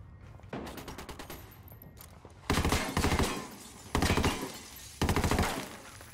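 Gunfire in a Ghost Recon game set in a casino, a sequence of light rapid shots followed by three loud, sharp, heavy reports spaced about a second apart, with glass-like shattering mixed in.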